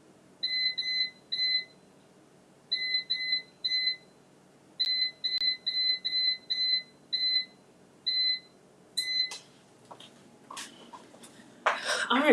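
An air fryer control panel being set to 350 beeps close by in short two-tone bleeps, sounded singly and in quick runs with brief pauses, followed at the end by kitchen clatter and rustling.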